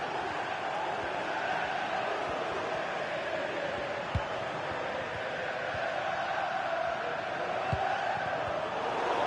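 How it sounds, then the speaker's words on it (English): Stadium crowd noise from a PS4 football video game, a dense continuous roar of cheering held at a steady level, with a couple of faint thuds. "The crowd encouraging him to take it on."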